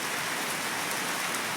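Steady rain falling at night during winter in a rural Gujarati setting, a continuous even hiss of drops on surfaces with no voices, holding level throughout.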